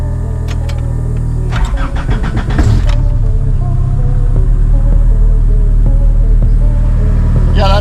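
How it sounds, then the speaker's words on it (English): A minitruck engine cold-starts with a brief cranking burst, then catches and settles into a loud, steady idle that runs throughout. "Sick cold start, right?"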